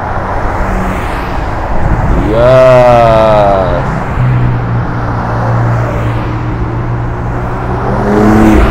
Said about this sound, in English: there are more cars coming up